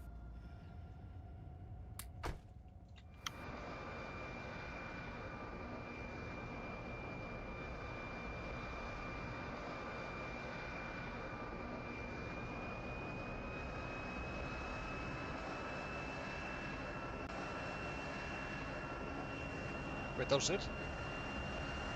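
Aircraft taking off in the Factorio game with the Krastorio SE mod and an aircraft realism mod: a steady, broad engine roar holds from start to finish, with a voice speaking briefly near the beginning.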